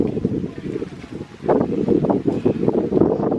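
Wind gusts outdoors during a family outing, a loud, rumbling buffet that swells and eases against the microphone, with voices talking faintly underneath.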